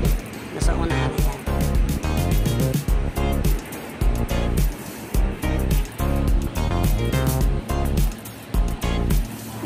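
A machine strips old paint from the wooden floor of a basketball court in a gym, giving a loud, rough droning rumble with rhythmic surges and scraping pulses, while someone talks nearby over it.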